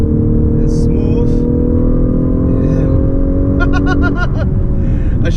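A 2019 Lexus LS500 luxury sedan's engine holds a loud, steady drone close by, easing off near the end as short bursts of higher-pitched noise cut in.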